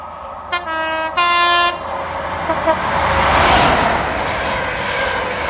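A Settle & Carlisle Pullman train sounds two loud, sustained horn blasts, followed by the swelling rumble and rush of the carriages passing close by on the line.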